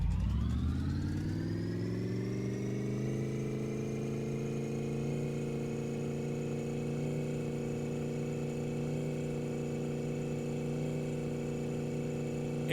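A Chevy Impala engine in the My Garage video game revving in fourth gear, a steady droning note that climbs at first and then holds at a constant high pitch, loud and uninterrupted.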